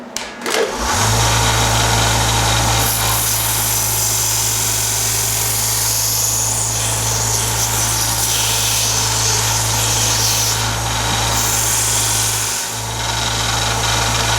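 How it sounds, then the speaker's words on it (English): Sander smoothing a cast aluminum AK-47 part, a loud steady motor hum starting abruptly and running throughout, with shifting gritty grinding texture as the metal is worked against it. "I'll just kind of work it on the sander"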